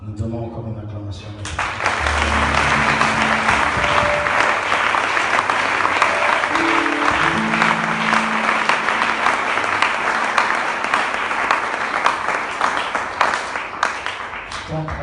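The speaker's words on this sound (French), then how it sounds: "donnons encore une acclamation." Sustained applause from a church congregation, steady and dense for several seconds, with a few voices calling out and low music tones beneath.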